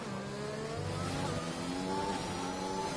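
F1 race cars in a racing game at the Azerbaijan circuit, engines screaming at high revs with pitch rising and shifting as several cars run close together, a steady, loud, continuous whine.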